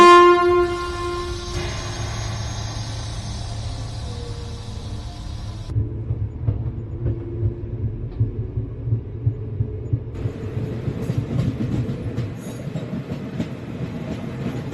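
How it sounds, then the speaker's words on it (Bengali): A train starts to move: a brief horn sounds first, then a steady low rumble with rhythmic wheel clatter builds and carries on, close and fairly loud. "ট্রেন চলতে শুরু করে।"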